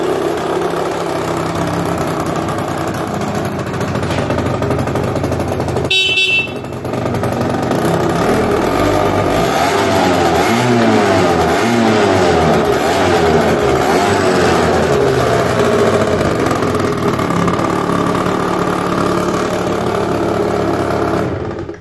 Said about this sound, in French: le scooter il est remonté, il est tout propre, il démarre au quart de tour